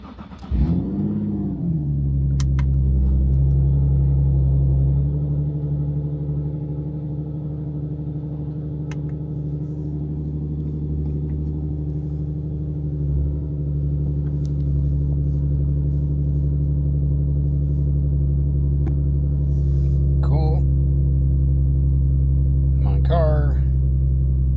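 A Nissan Z engine freshly ECU-tuned with EcuTeck cranks and catches with a brief rev, then settles into a steady, loud, close idle rumble that holds for over twenty seconds.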